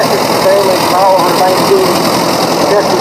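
A vintage tractor runs in a parade at the 2016 Rollag steam threshers show, its engine a steady mid-distance rumble beneath continuous commentary from an announcer.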